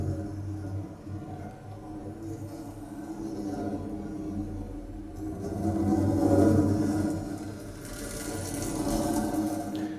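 Electronic composition imitating a rotation sound: a dense, churning texture of swirling, watery noise with low rumble and hissing highs, swelling and receding in waves at moderate volume with no speech.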